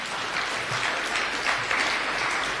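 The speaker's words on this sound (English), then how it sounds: "Let's clap for them." Congregation at a church service claps together, a sustained wash of hand clapping at moderate loudness holding evenly throughout.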